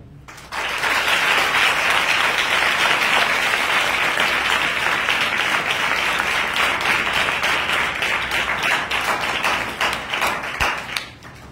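A congregation at a youth revival meeting in Borrigumma, Kundraguda, claps in praise, a dense and steady wall of applause that holds for about ten seconds before it fades.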